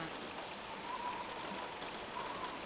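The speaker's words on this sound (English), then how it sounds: "Oh, I'm drenched from the rain. Yep, that storm has come." Rain falling during a storm in Persona 3 Portable, a steady, soft, hissing downpour with no other sounds over it.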